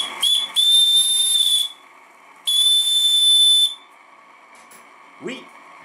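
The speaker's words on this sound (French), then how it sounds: "je fais aussi une vidéo pour faire fonctionner un sifflet." Live steam on an Anton T200 model steam set drives a whistle in two long, shrill blasts with a pause between, close and loud over a soft hiss, and a brief voice follows.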